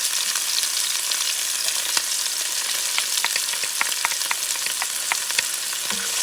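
Peppers and onions fry in a pan for a Puerto Rican sofrito base, giving a loud, steady, close sizzle with scattered crackles and pops throughout and no talking.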